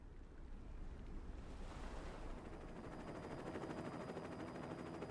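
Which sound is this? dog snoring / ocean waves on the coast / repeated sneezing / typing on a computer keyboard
ocean waves on the coast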